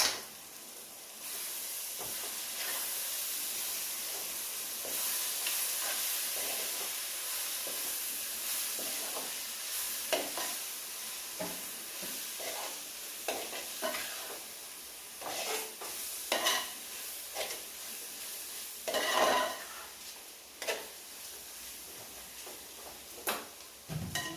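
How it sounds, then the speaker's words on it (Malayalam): A spoon stirs a single masala mix in a hot pan for an Onam sadya dish, with close scraping and clinking strokes over a soft continuous sizzle, the strokes growing more spaced and distinct toward the end. "നന്നായിട്ടൊന്ന് ഇളക്കി കൊടുക്കാം"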